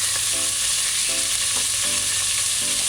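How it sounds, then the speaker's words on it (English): Bacon or ham pieces frying in hot oil in a pot, a loud, steady close-up sizzle with intermittent stirring scrapes and clinks throughout. "after a minute and the oil gets hot, you just add your bacon pieces or your ham pieces"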